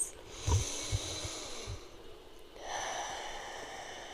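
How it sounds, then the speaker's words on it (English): A deep breath drawn in through the nose and let out through the mouth, with a few soft sniffing bursts, then a long, gentle hissing exhale, quiet and close. "take a few deep breaths"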